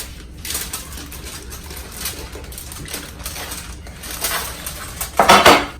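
Metal loaf pan clinking and rattling on a kitchen counter as a woven bacon lattice is set into it for a smoked BBQ cheddar bacon-wrapped meatloaf, with scattered clinks building to a louder clatter near the end.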